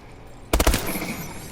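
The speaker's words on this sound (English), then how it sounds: "2 out of those 3 shots had to hit for it to be a 5-shot kill" A single quick burst of ARX-160 rifle fire in Call of Duty Advanced Warfare, three tight, punchy shots close together, followed by a fading tail and quiet background.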